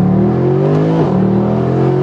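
Mercedes AMG SLS 6.2-litre, 571 hp engine revving under hard acceleration, a loud continuous roar rising in pitch, dipping briefly at a gear change and climbing again, with no voices.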